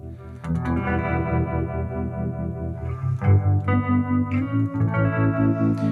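An electric guitar with a shimmering, pulsing harmonic tremolo effect rings out, chords sustaining with a wavering, modulated tone and distortion, fairly loud and with no voices.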